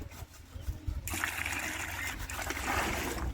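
Water splashes onto plastic dishes during washing: after about a second of quiet dribbling, a strong, close gush begins and keeps pouring steadily to the end.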